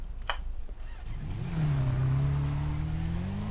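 A motorbike engine in GTA 5 starts up and revs, its tone climbing and then holding at a steady loud drone, close by and alone.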